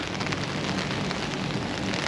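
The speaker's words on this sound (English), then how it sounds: "It is raining today here at the mothership SJU" Rain falling outdoors on a university campus in autumn, a dense, steady hiss of drops with no pauses, fairly close and loud, with no talking.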